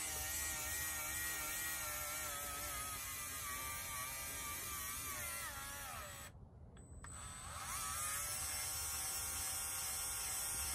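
A NAVAC cordless flaring tool flares copper tubing with a steady, continuous motor whine, briefly cutting out and dropping low for about a second in the middle before running again at full level.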